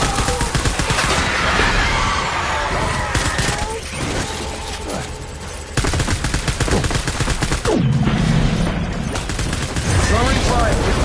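Heavy gunfire in the video game Death Stranding: loud, dense bursts of rapid shots and automatic fire crackling almost continuously, with a brief lull midway, while voices shout over the battle.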